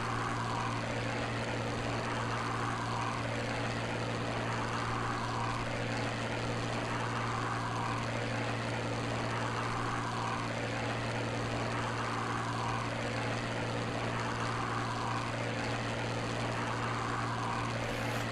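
Warbird propeller aircraft engines in Microsoft Flight Simulator drone steadily, with a rhythmic pulsing throb that repeats every couple of seconds, a loud continuous hum held throughout.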